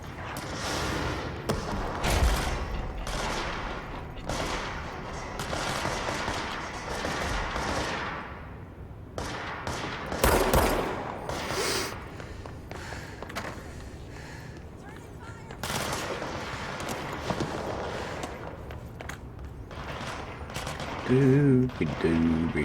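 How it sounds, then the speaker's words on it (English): Gunfire in the video game Control, rapid machine-gun bursts and single shots cracking loudly in clusters, some near and some farther off, with a voice speaking in between. "The gunfire didn't allude you to their situation?"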